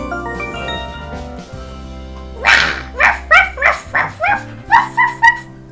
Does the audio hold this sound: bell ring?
no